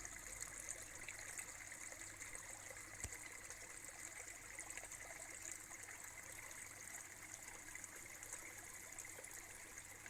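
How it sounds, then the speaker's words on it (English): Water trickles steadily in a garden pond, a soft continuous flow with gentle splashy hiss, close and even throughout with no talking. "And the sound of water."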